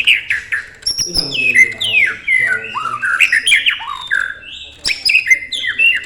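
A canary sings in bursts of bright trills, chirps and warbling whistles, loud and close, with short pauses, while a voice speaks briefly at the start.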